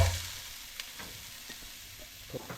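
Chopped ginger frying in a spoonful of olive oil, a soft steady sizzle just after it hits the pan, with a few faint clicks of stirring, quiet and close, no speech.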